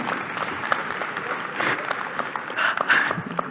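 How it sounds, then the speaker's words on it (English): Audience applause at a OneCoin blockchain information event, a steady wash of clapping from a crowd that holds throughout, with a brief voice or cheer rising through it near the end. "Applause for Vladi."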